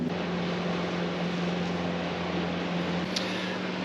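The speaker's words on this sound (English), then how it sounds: "there's a boat going by" A boat passes by on the water outside a parked motorhome, a steady broadband engine drone with a low hum running evenly and fairly loud throughout, no talking.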